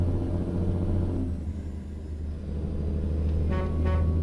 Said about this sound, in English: Truck does sound nice.